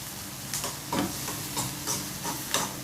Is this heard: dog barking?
no